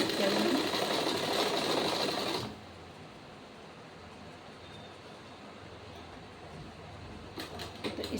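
A sewing machine stitches a blouse with a fast, steady mechanical whir that is loud for a couple of seconds, then slows to a quieter running hum, with a voice faintly underneath.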